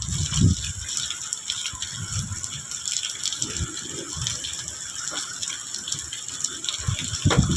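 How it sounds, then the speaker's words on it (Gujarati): Rainwater flows steadily after heavy monsoon rain in Dalkhaniya, Gir, a continuous wash of running water with low rumbling surges and no talk. "આમાં પાણી એક ધારા ચાલુ છે."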